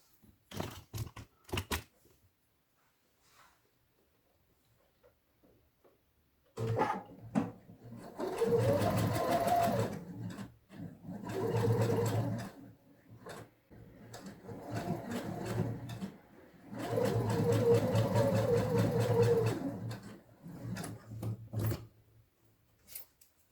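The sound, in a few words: sewing machine stitching a seam on fabric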